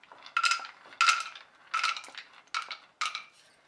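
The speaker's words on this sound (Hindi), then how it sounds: "घी अब अच्छे से गर्म हो चुका है, तो अब हम इसमें डालेंगे सबसे पहले बादाम" Almonds dropped into hot ghee in a kadai, crackling and sizzling in five short bursts at a steady rhythm, close and moderately loud, each settling into a softer fizz.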